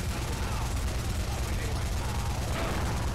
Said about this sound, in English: That explosion almost killed me.